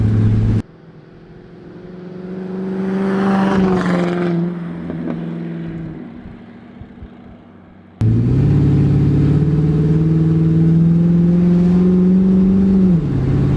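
A loud Hemi V8 engine in a body-swapped 1965 Dodge Monaco rumbles and revs as the car drives, its deep exhaust note rising and falling, with a sharp jump to a louder, closer roar midway.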